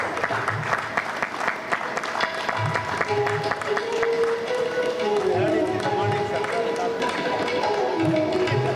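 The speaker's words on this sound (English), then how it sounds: "A huge round of applause for answering all your questions" Audience applause at a state-level accountants' conference session in Karnataka, a sustained wash of many hands clapping steadily through the whole stretch, fairly close and full, with some voices mixed in beneath.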